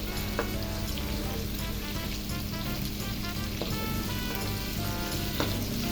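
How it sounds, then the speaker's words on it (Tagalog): Shrimp paste with ginger and garlic sautés in a pan for pakbet, giving a continuous loud sizzle with crackling pops and occasional stirring, and no talking. "Gisa-gisa lang ng konti."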